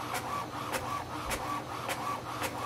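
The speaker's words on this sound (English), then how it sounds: "the printer is connected and it has started to print" An Epson WorkForce WF-110 printer prints a test page, a steady mechanical whir with a regular thump of the print head about every half second, loud and close with no voices.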